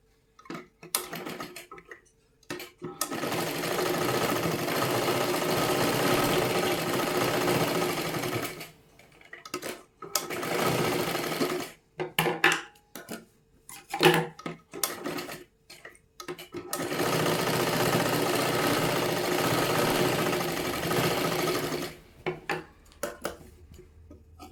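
A sewing machine stitches a blouse sleeve seam in several loud, steady runs of rapid mechanical whirring, separated by brief pauses with some clicks and handling noises.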